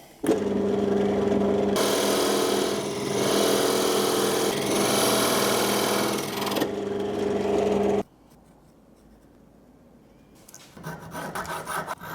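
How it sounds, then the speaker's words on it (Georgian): A power drill fitted with a cutting bit shapes a wooden chess rook, sending out a loud, continuous grinding rasp for about eight seconds. Then it cuts off into near quiet, and softer rubbing follows near the end. "Ტრელი უნდა გამოვიყენო, იმიტომ რომ დამჭერი კარგი არ მაქვს"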